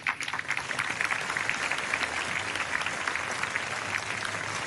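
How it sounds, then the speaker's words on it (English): Audience clapping at the Zayed Award for Human Fraternity 2024 ceremony for Sister Nelly, a dense, sustained round of applause from a large hall, steady and fairly loud throughout. "Let's give it another round of applause to Sister Nelly."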